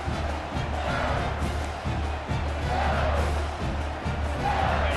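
Stadium crowd at a night college football game between Louisiana and LSU in EA Sports College Football 25, a dense, continuous roar of yelling and cheering that holds steady and loud throughout, with no clear voices on top.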